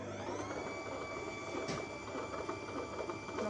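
Naelia juice extractor running, a steady moderate motor whir with a constant tonal hum and light mechanical rattling, close by and continuous with no talk.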